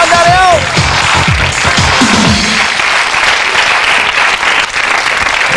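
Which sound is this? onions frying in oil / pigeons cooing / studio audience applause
studio audience applause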